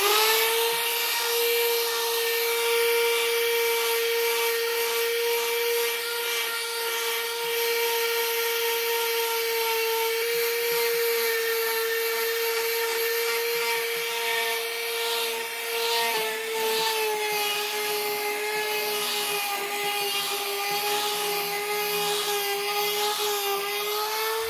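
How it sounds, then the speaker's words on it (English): Lighter sandpaper rubs steadily across pine scrap wood on a rustic desk, a continuous close abrasive hiss with a faint whirring tone running underneath for the whole stretch. "Anyway, I'm gonna go to some lighter sandpaper."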